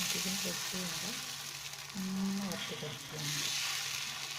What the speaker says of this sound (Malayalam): ഇനി ഇതിലേക്ക് ദോശമാവ് ഒരു തവി മാവ് ഒഴിച്ച് ഇതുപോലെ ഒന്ന് ജസ്റ്റ് ഒന്ന് പരത്തി കൊടുത്താൽ മതി